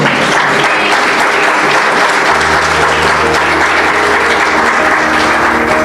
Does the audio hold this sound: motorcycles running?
no